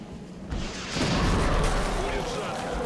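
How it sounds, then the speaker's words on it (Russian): RPG rocket launch in the turn-based strategy game XCOM: Enemy Unknown, a loud explosive whoosh-and-boom that swells around the one-second mark and rumbles on steadily to the end. "Выстрел из РПГ."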